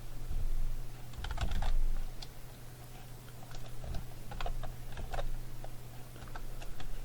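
Close, crisp keystrokes on a computer keyboard as code is typed, coming in short irregular bursts over a steady low electrical hum, with no talking.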